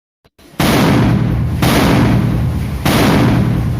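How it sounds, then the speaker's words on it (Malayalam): A firecracker goes off with a sudden loud burst that becomes a harsh, sustained crackling roar, in three close, back-to-back surges lasting several seconds, with no talk over it. "ആ പടക്കം പൊട്ടിച്ചാട്ട് ഒറ്റ ഒന്ന് കേൾപ്പിച്ചു കൊടുത്താണി"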